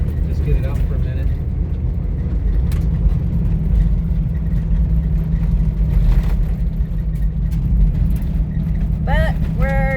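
An off-grid couple's vehicle, a truck called Jimmy, idles steadily with a low engine rumble that holds for the whole stretch, joined by other noise and a brief rising tone near the end.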